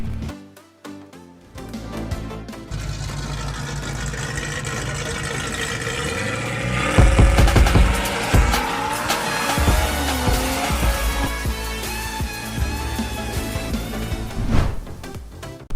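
A 1960s Shelby AC Cobra sports car with a supercharged Ford V8 engine runs and drives, its deep engine note rising and revving loudly under music, with sharp bursts near the end.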